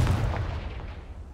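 A single deep, booming blast from the Confringo spell in a Harry Potter video game, loud and close, with a heavy low rumble that decays over about a second.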